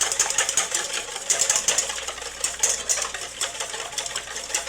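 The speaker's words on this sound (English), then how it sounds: "I'm going to break those yolks and just beat that." Quick, rhythmic clicking and tapping of a utensil beating eggs in a bowl, steady and close, with no talking.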